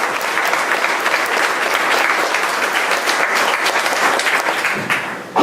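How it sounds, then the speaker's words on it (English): Applause at a dedication ceremony for Good Earth State Park: a sustained, dense clapping from a crowd, loud and even for several seconds before easing at the end. "I really do want to give a special applause to Doug Hofer and Buzz Nelson"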